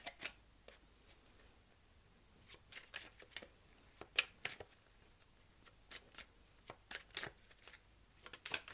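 Tarot cards shuffled and drawn during a reading: soft, quiet riffling flicks and slaps of card stock in irregular bursts, close and intimate, with no talking over them.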